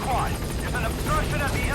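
Helicopter arriving in the video game Metal Gear Solid V: The Phantom Pain, a steady rotor drone under continuous speech throughout.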